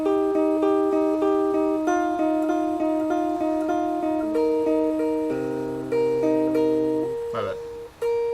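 A guitar plays the riff from The Great I Am, a sequence of clear sustained notes and chords at a steady pace, loud and close, ending with a brief scrape.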